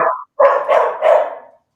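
A dog barks three or four times in quick succession, loud and close, with short gaps and nothing else around it.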